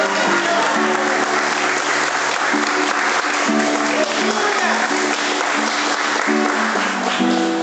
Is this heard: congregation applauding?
yes